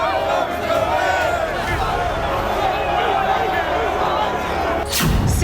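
A large protest crowd fills a London street, a dense continuous roar of many voices with shouts rising from the mass, loud and steady throughout, with a brief thump near the end.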